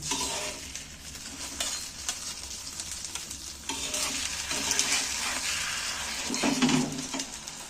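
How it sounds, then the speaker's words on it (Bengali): An egg and gram flour batter rolled up and frying in a pan sizzles steadily, with brief scraping and stirring touches as it is turned over and louder bursts of sizzle near the end. "এবার আমি ডিমটাকে রোলের মতো করে উল্টিয়ে দিচ্ছি"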